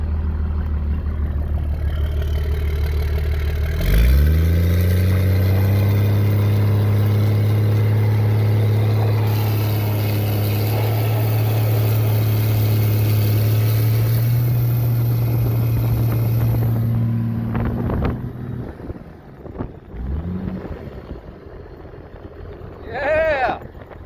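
A truck engine is held at a loud, steady high rev against the brakes for a long stretch, then the revs drop away and it pulls off into lighter driving noise, with voices cheering near the end.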